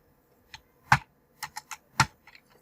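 Computer keyboard keys typed in short irregular bursts, several crisp clicks and a couple of louder taps, close and alone in a quiet room while code is entered.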